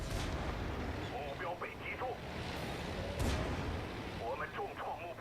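Tank cannon shots with premium rounds in World of Tanks, two or three heavy booming blasts spaced a couple of seconds apart over rumbling battle noise, with a voice talking over them throughout.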